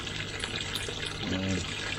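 Rainwater drips and trickles off garden trees after a morning thunderstorm, making a steady, soft, close wet patter that runs continuously with no voices.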